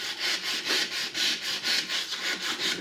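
Sandpaper backed by a board rubbing a stainless steel knife blade by hand, in quick, even back-and-forth strokes, a rhythmic gritty scratching close up with no talking.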